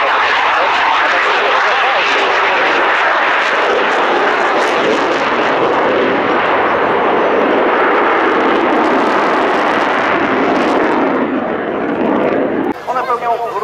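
A fixed-wing airplane roars past at the Radom Air Show 2015, a loud, sustained engine rush that holds steady and then cuts off near the end.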